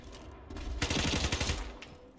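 A PP90M1 submachine gun fires a rapid burst of closely packed shots in the Ironsight shooter game, loud and near, lasting about a second between quieter moments.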